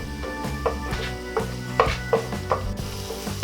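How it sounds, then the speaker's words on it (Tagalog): Garlic frying in a pan for sinigang na ulang, a close steady sizzle with rhythmic scraping strokes of stirring. "Hihintayin lang po natin na medyo mag light brown itong ating bawang."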